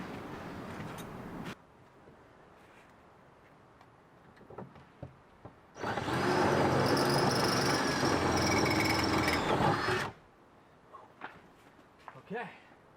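A power drill bores a hole into the body of a Jeep JLU for a side ladder install, a loud, close, steady whir lasting about four seconds, with quiet handling noises before and after.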